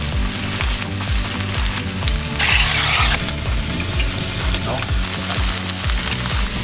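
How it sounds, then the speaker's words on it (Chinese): Tofu and luncheon meat pan-fry in oil for Okinawan stir-fried bitter melon, a loud, close, continuous sizzle with rhythmic scraping stirs, no voices. "把它们煎到皮的两边都脆脆的。"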